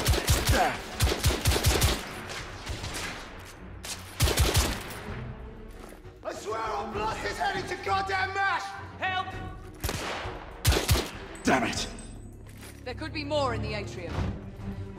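Sharp bursts of automatic and single-shot gunfire ring out in a cutscene from The Order: 1886, coming in loud clustered volleys with brief pauses and clattering impacts between them.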